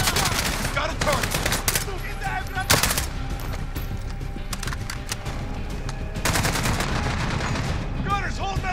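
Rapid bursts of automatic gunfire and heavy weapon fire crackle through a Call of Duty: Modern Warfare battle on a London assault mission, loud and sustained, with shouted commands over the shooting.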